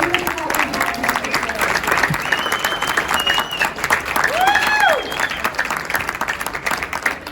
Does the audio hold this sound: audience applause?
yes